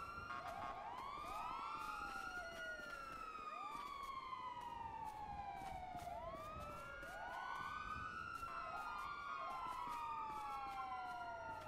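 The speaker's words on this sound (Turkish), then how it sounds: "Ambulans geliyor." Ambulance siren in the GTA V video game, a continuous wailing tone rising and falling in repeated sweeps with overlapping siren layers, steady and fairly loud, no talk.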